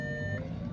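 A Lamborghini's reverse gear warning sounds as a single faint, steady electronic beep tone that stops partway through, over a low idling hum.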